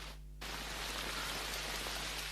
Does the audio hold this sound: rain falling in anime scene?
yes